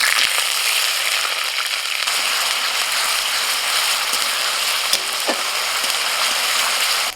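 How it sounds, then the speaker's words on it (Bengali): Onion paste sizzling in hot oil with whole cardamom, cinnamon, cloves and bay leaf, a steady dense crackle and hiss that runs unbroken and close throughout, with a few brief clicks of stirring. "পেঁয়াজটা ভেজে নিয়ে"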